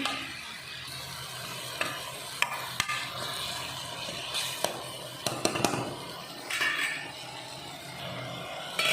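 A spatula stirs ridge gourd curry seasoned with garam masala and salt in a pan, giving a continuous sizzle with scattered sharp scrapes and clicks. It is close and fairly loud, and nobody speaks.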